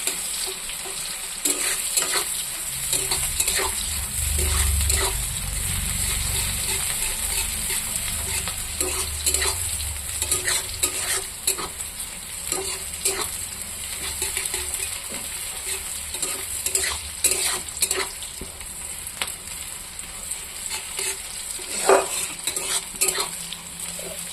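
Onions and green chilies stir-frying in hot oil in a kadai, a steady close sizzle with frequent scraping and clinking of a spatula against the pan, and no talking.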